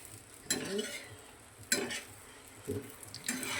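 An egg chapati cooks in a pan with only a little oil, giving a faint low sizzle under three distinct sharp scraping or tapping sounds of a utensil against the pan, spaced roughly a second apart.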